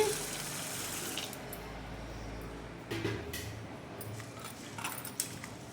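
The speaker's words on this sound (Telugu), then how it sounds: "ఇలా వేసుకొని వాటర్ పోసుకొని శుభ్రంగా 4-5 సార్లు కడుక్కోవాలి." Water runs from a tap into a bowl of sago pearls as they are rinsed, a steady close splashing with brief stirring swirls and sloshes through the clip.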